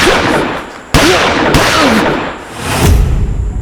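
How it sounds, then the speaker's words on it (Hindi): Gunshots fired by hunters: a few sharp, loud cracks over a rough, noisy background, spaced unevenly across a few seconds, with no talking. "ये तो गोलियों की आवाज है ना?"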